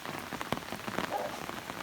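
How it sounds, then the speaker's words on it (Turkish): Rain pelting down hard on a surface nearby, a dense irregular patter of drops with occasional sharper splats, no voices. "Çok da yağmur yağıyor şu anda."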